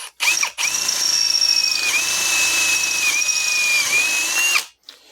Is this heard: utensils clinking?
no